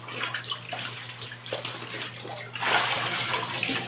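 Laundry is trodden underfoot in soapy water to work out the foam, giving continuous sloshing and splashing close by that swells louder toward the end, with no talk.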